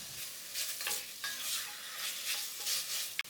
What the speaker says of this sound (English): I keep stir frying it until the moisture is gone.